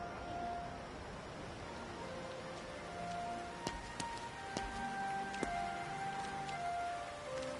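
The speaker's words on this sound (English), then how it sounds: "I'm feeling a drizzle out." Light drizzle falling in Like a Dragon: Infinite Wealth, a steady soft hiss of rain with scattered faint clicks and tones on top.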